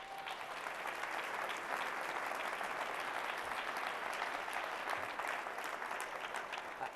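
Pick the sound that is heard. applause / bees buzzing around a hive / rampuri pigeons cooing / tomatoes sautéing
applause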